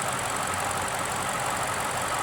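A salt-water flooded Corvette engine runs at a steady, loud idle, a dense, unbroken mechanical drone with no voices.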